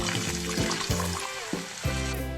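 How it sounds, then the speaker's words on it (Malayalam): Water is poured into a cooked tomato masala for a cauliflower curry, giving a soft splashing pour in several short bursts, fairly quiet and close, with faint tonal sounds in the background. "നമുക്കിനി ഇതിലേക്ക് കുറച്ച് വെള്ളം ആഡ് ചെയ്യാം"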